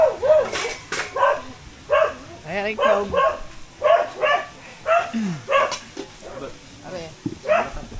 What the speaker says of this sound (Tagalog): Ingay ba ng mga aso na yan?